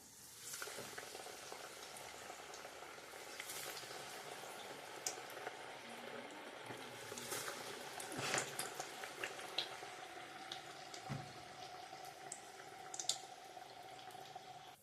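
Tur vada fritters fry in hot oil, giving a steady, fairly faint crackling sizzle with scattered pops and bubbling throughout, without any talking.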